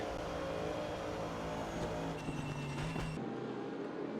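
A GT3 race car engine from a racing video game at the Portimao circuit screams at high revs, its pitch climbing and holding while drafting behind a rival. The sound cuts off abruptly near the end.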